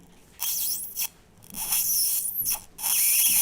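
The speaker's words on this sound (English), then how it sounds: "If you hear that or see a spark, yeah, I can see a sparking, then your applicator is working." A static grass applicator for model-making, held near the microphone and sparking, giving loud bursts of harsh crackling buzz in irregular short stretches separated by brief near-silent gaps, with no talk.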